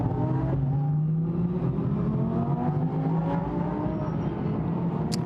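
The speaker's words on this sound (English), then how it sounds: "The cars now start, as they come out of Village, to concentrate on the start of the race" Lamborghini Super Trofeo race cars at the start of a race at Silverstone, a loud continuous engine drone with rising and falling harmonic tones as several cars rev and pull away together.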